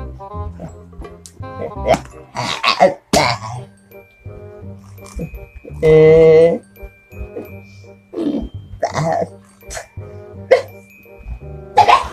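A dog barks several times in scattered, sharp bursts, with one longer howl-like call, amid nearby voices and household noises.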